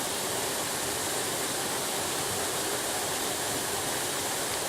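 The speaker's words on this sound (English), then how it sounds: "I picked Glenbarrow because it's famous for this waterfall" Glenbarrow waterfall roars as a steady, dense rush of falling water, loud and unbroken, with no voices over it.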